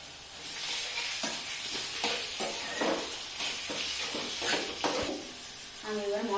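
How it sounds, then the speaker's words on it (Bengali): Chicken mince sizzles in a pan for momo filling, a close, steady frying hiss broken by scraping stirs, with a voice talking briefly near the end. "এই যে এবারে চিকেনের কিমাটা দিচ্ছি,"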